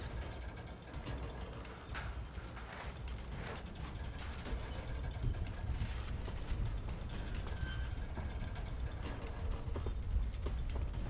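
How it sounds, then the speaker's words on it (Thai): Footsteps approach from ahead in the video game Arena Breakout, a steady run of mechanical clicking and scuffing steps under a dense, continuous game ambience with no talk. "มีเสียงเท้าอยู่ด้านหน้านะ"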